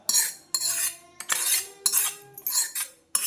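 A metal spoon scrapes and clanks against a pan while tomatoes and spices are stirred with mustard seeds and lentils, several separate close strokes with short pauses between them and no talking.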